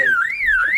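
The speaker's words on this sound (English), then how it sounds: "that's a car alarm" A songbird copies a car alarm with a loud, close, pure whistling tone that sweeps smoothly down and up in a wailing siren pattern.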